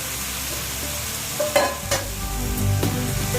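Chopped beans, green chillies, cucumber, brinjal and snake gourd go into a hot pan for avial and are stirred. A steady sizzle runs under a few scraping stirs, close by, with no talking.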